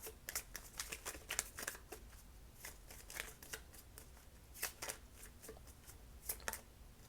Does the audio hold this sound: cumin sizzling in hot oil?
no